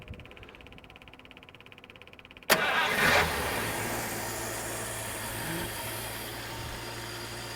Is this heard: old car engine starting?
yes